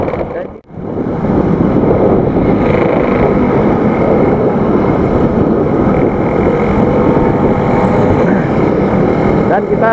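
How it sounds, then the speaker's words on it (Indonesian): Engine of an old Yamaha RX King 135 cc motorcycle while riding on a quiet Sunday road, a loud steady rumble mixed with heavy wind buffeting across the whole stretch after a brief dip near the start. "Motor RX ini tua banget guys, motor tua yang memiliki cc yang cukup besar"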